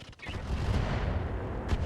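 Weapons fire against a turret in the mech combat game RogueTech, a dense, sustained rumble of fusillade blasts with a brief sharp crack near the start and another burst near the end.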